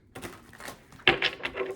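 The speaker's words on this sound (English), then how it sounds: "I'm going to shuffle this first." A deck of tarot cards is shuffled up close, a quick run of papery riffling and flicks with a sharper burst of card snaps midway, no voices.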